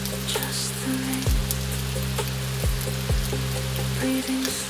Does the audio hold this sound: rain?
yes